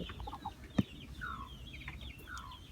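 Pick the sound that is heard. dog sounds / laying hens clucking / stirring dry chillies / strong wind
laying hens clucking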